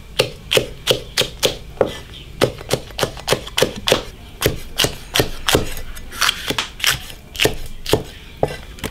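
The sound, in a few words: knife chopping green peppers on a wooden board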